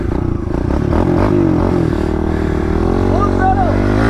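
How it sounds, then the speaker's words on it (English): Mini bike engine held at full throttle, a loud continuous buzzing drone with a slight rise in pitch, heard close with people talking over it. "Full throttle, all the way, and keep your feet up on the bike."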